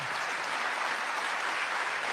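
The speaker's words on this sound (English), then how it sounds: "there's a lot of applause" Audience applause, a dense, steady wash of clapping that holds at an even level for about two seconds with no voices above it.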